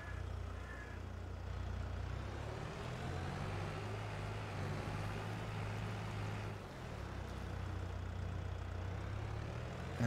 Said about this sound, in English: I'm going to grab a tractor.